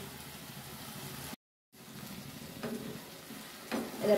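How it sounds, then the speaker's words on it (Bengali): Sesame paste being stirred with flat beans in a frying pan: a low simmering sizzle with soft scraping strokes. The sound cuts out briefly near the start, and two slightly louder stirs come toward the end. "ভালো করে আমি নেড়ে নিচ্ছি, আবার মিক্সড করে নিচ্ছি"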